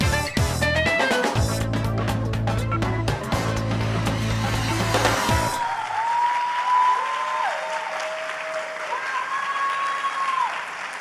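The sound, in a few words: audience applause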